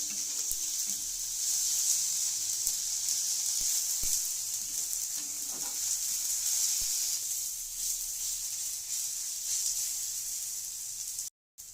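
Chopped tomato fries with garlic in a pan for masala Maggi noodles, a constant close hiss and sizzle broken by a few light stirring scrapes.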